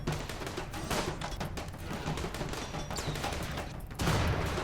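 Dense, steady gunfire crackles through a Rimworld colony firefight, a continuous fusillade of rapid shots with a heavier burst near the end.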